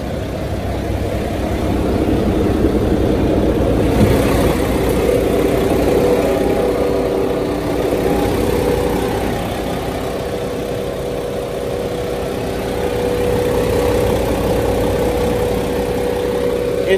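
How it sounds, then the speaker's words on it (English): A 2013 Mack Pinnacle CXU613 truck with a 445-horsepower MP8 diesel engine idles at a steady, even rumble close by, unbroken from start to finish with no talk. "Engine's running good."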